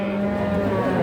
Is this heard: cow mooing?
yes